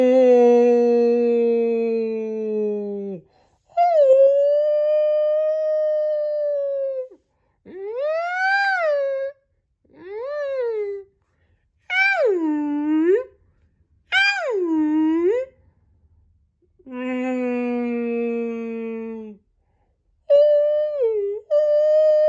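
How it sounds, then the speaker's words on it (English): A series of long, drawn-out tonal calls, some sliding up and down in pitch, each a few seconds long with pauses between, alone and clear. "That, my friends, was the sound of a whale."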